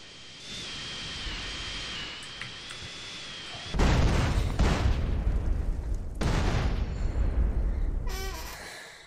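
An airplane blows up in GTA San Andreas with the chaos mod running: a loud, close, sudden explosion breaks a steady high engine whine, and a heavy rumbling blast keeps going for several seconds with a second burst near the end.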